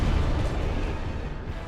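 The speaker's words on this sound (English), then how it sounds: "Watch out for the explosion." A deep, rumbling explosion in the video game Dark Souls Remastered, loud and sustained with heavy low-end boom that holds steady for nearly two seconds before easing slightly.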